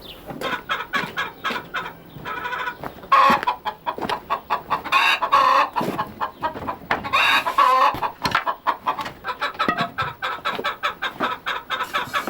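Hens cluck busily inside a henhouse, a dense overlapping chorus of short calls with a few louder squawks rising above, close and continuous with no talk.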